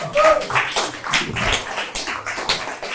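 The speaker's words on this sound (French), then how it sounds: "On peut s'applaudir encore bien fort." A theatre audience at an improvisation show in a Paris bar claps steadily and densely for about three seconds, a close, continuous wash of many hands with no break.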